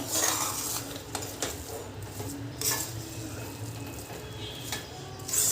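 Utensil scraping and clinking in a cooking pot as jaggery and daliya are stirred together, a steady run of soft scrapes and light knocks at close range with no talk.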